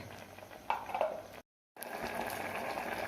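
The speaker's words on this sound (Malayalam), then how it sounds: "ഇതൊന്ന് തിളയ്ക്കട്ടെ." A cowpea and Chinese potato curry, thinned with water and a ground coconut and cumin paste, bubbles steadily in a pot. The simmer is a soft, continuous hiss, broken by one short silent gap.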